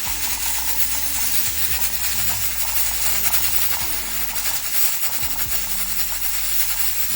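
A pressure cooker cooking ketupat gives off a continuous noisy hiss with a fast jittery rattle from its valve, loud and close, steady for several seconds with no talk.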